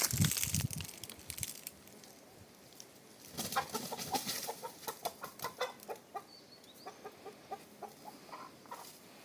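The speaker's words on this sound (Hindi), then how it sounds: "ये देखो भाई मुर्गा तो ये वाला है, बिल्कुल गजब वाला मुर्गा है" A large rooster, roughly one to two kilos, being chased and caught, gives a steady run of short, close clucks after a burst of rustling and scuffling.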